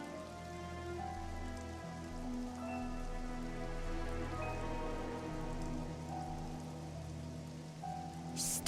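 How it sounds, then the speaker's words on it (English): Rain falls steadily in the video game Xenoblade Chronicles 3, a constant patter on surfaces heard under sustained musical tones, with no speech during the stretch. "I wonder how long this rain's gonna last."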